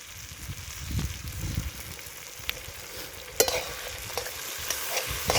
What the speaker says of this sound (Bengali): এবার সোয়া সস দিয়ে দিচ্ছি